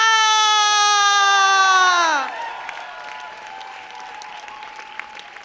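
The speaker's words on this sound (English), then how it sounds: "And I want you to give a huge applause for Alex Wanderer!" Audience applause at a live show follows a loud, sustained high voiced cry or whoop lasting about two seconds. The clapping then continues more quietly and thinly, with scattered distinct claps, for the remaining three seconds.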